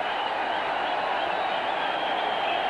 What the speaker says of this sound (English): Crowd's gone wild, and why not?